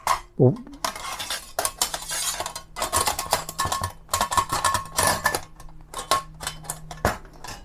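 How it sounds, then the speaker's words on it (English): Metal ash pan of a folding REDCAMP camp stove sliding and clattering into place, with a close series of bright scraping, rattling metal clicks and knocks over several seconds and no talking. "Then you have the pan on the bottom for the ashes and the embers. It slides in"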